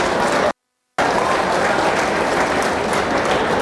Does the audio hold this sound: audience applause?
yes